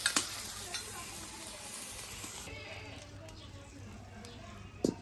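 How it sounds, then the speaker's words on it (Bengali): Shrimp fry in a pan in a home kitchen, a faint continuous sizzle with occasional stirring clatter and a couple of sharp utensil knocks near the start and end. "চিংড়ি মাছ ভাজা হয়ে গেছে"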